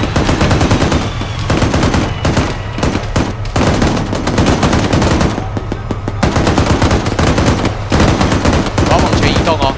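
Rapid, sustained machine-gun bursts from a vehicle gunner in the military game ArmA, loud and close, firing in repeated volleys with brief pauses throughout, over a low engine rumble.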